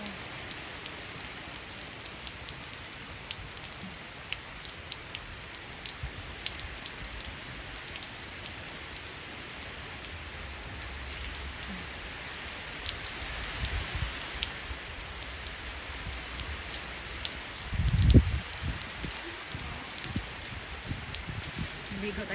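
Steady rain patters on surfaces in a continuous hiss, with one louder thump near the end.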